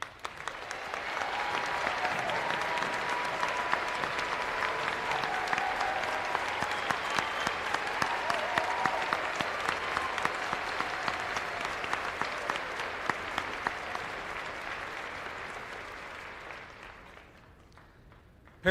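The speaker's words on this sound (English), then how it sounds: "Please join me in giving these amazing men and women a round of applause." An audience at a 2023 graduation ceremony gives veterans a long, sustained round of applause, dense and even clapping with scattered sharper claps, lasting many seconds before tapering off.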